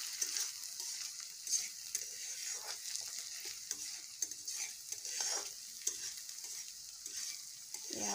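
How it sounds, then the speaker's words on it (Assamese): Onions, garlic-ginger paste and chopped chili fry together in a pan, producing a faint, continuous high sizzle with light stirring scrapes over several seconds, quiet and without talk. "এতিয়া এনেকৈ অলপ সময় ভালদৰে ভাজি ল'ম।"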